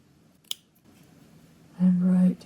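Scissors snip through fabric threads while cutting Hardanger embroidery: one sharp click early on, then a louder sustained cutting sound near the end, alone.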